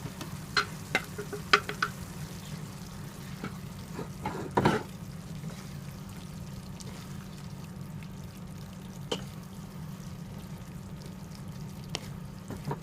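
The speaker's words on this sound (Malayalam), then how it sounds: "ചിക്കനെ നമുക്ക് മസാലയുമായി നന്നായി മിക്സ് ചെയ്യണം" Marinated chicken is stirred into green masala in a pan for Kerala-style green chicken curry: a faint, steady sizzle runs throughout, broken by scattered spoon scrapes and clicks, with one stronger scrape near the middle.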